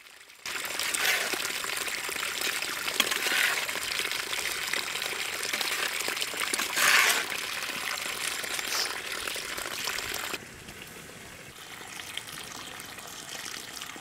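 Water pours into an oyster mushroom gravy in a clay cooking pot, a steady splashing gush for about ten seconds before it drops to a quieter simmering hiss.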